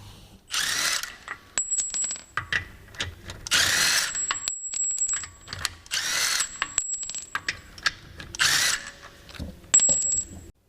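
Wheel bolts on a Peugeot 406 2.0 turbo are worked loose with a ratchet, giving several close bursts of rapid clicking and metallic rattling, separated by brief clinks and pauses.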